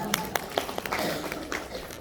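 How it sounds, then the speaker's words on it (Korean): Applause from a lecture audience: a brief scatter of sparse hand claps with loose, uneven rhythm, moderately close and fairly quiet. "박수 한번 부탁드리겠습니다"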